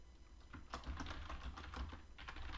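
Typing on a computer keyboard comes as a quick run of soft, close key clicks in an uneven rhythm, quiet and with no speech.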